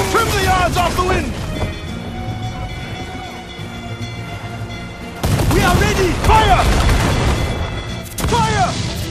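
Ship cannons firing in the naval battle of the Assassin's Creed 4 Black Flag game, with bursts of booming volleys at the start and again after the midpoint, mixed with shouting crew voices over a steady background of sea and ship noise.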